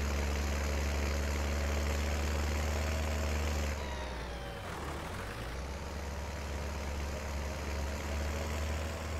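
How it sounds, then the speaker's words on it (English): Small tractor engine in Farming Simulator 19 straining under a heavy load, a steady loud low rumble that dips briefly in pitch before settling back, with no talking. "this is just too heavy for this poor little tractor"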